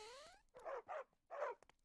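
A dog in the Minecraft modpack FTB Revelation gives a short, high, falling whine, then three quick, soft barks, faint and alone.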